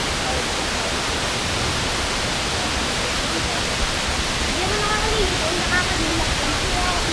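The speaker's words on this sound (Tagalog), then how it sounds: "Ito yung pinakamataas sa falls dito sa Batangas City na narating ko." A steady, loud rush of falling water fills the scene at Amatong Waterfalls in Sitio Piit, Batangas City, a continuous broadband roar with no breaks throughout.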